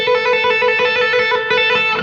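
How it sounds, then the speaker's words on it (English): Electric guitar with distortion and effects plays a rapid trill between two fretted notes, alternating hammer-ons and pull-offs in a fast even flutter, loud and close with a sustained ringing tone. "When I do something like that, it's actually called a trill."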